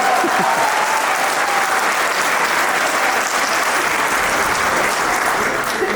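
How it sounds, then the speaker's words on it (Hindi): Dense, sustained audience clapping at a live event, loud and steady throughout with no pauses, with faint crowd murmur underneath and no one speaking. "ताली खुद ब खुद बज जाती है"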